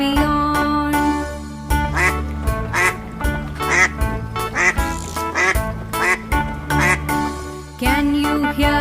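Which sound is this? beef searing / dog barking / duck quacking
duck quacking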